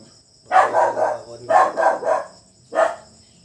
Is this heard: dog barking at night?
yes